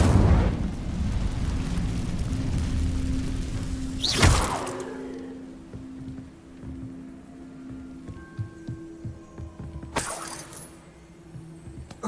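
Incendio fire spell cast in Hogwarts Legacy, a roaring whoosh of flame over steady rumbling with a sharp burst near the middle, then a quieter stretch and another brief flare near the end; no talking.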